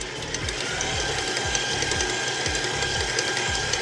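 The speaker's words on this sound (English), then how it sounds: "we'll go ahead and turn the mixer up 2 speeds" Electric mixer whipping mashed potatoes after the speed is raised, a steady loud mechanical whir with a regular rhythmic thump, close by and continuous.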